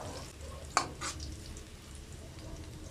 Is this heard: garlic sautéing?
yes